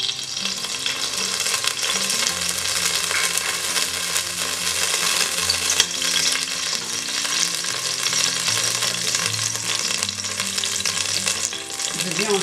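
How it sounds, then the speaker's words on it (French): Oil sizzles and crackles in a cooking pot on the fire, a dense, continuous frying hiss close up and loud throughout, with faint tonal background sounds underneath and no talking. "Je mets l'huile."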